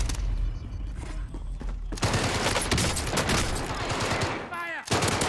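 Dense gunfire from the Call of Duty Warzone video game rattles in rapid bursts, with heavy bangs and booms almost continuous throughout, the gunfire loud and up close.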